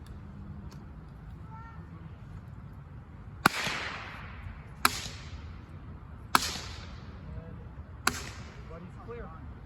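Four sharp, loud pops of percussion caps fired on Civil War muskets at an outdoor demonstration, spaced a second or two apart over a low background murmur.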